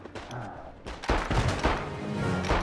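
Pistol gunfire in the World War I game Isonzo comes as a sharp report followed by a dense, loud burst of battle noise, close and punchy, with a faint voice earlier.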